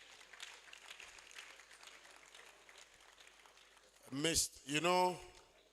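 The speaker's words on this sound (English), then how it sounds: "Round of applause for him, please." An audience at an unveiling event gives faint, distant applause for several seconds. A voice then speaks loudly over the fading clapping.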